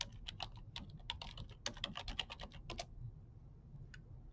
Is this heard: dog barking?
no